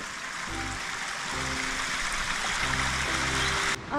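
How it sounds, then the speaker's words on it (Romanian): A waterfall in a deep river canyon along the Luncavăț river makes a continuous rushing roar, steady and fairly loud, with faint low tones underneath and no speech. "O cascadă foarte frumoasă acolo în vale."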